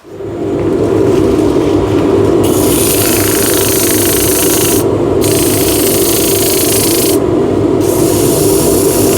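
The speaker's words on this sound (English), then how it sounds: "But first, I need to sand this." Continuous steady grinding hiss of power sanding wood, loud and close, with the high scratchy band cutting out briefly twice as the sander lifts off.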